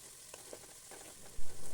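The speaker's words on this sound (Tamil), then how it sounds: "வெங்காயம் கொஞ்சம் வதங்கினதுக்கு அப்புறமா மீன் பொரிச்ச அந்த எண்ணெயையும் ஊற்றிடலாம்." Soft sizzling of onions sautéing in leftover fish-frying oil for fish biryani, faint and steady with a few small crackles and a louder bump near the end.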